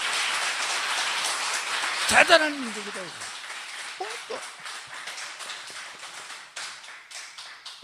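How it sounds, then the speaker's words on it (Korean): A lecture audience claps in a fairly quiet, crackling burst that fades within a couple of seconds, after which a voice speaks over a soft room background. "감사하는 박수 좀 쳐봐요"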